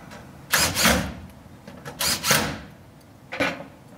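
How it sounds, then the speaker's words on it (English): Screws being tightened into lighting control modules with a hand tool, a few short bursts of scraping, grinding turns close by, separated by brief pauses. "We tighten those up."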